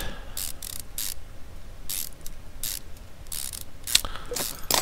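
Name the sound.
ratchet wrench on bolts, from video game Car Mechanic Simulator 2015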